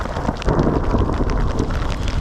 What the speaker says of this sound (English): Just got caught in the mother of all thunderstorms.